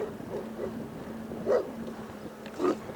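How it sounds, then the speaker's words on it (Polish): A dog barks twice, loud and fairly close, against steady background noise from a bike ride along a road. "Kurwa, weźcie tego psa jebitnego!"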